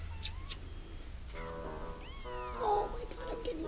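A small kitten gives a couple of short, thin meows up close, with soft chirpy squeaks and light handling noise around them in a quiet room.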